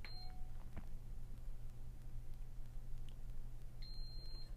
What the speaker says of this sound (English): press and hold the control knob until we hear the second beep.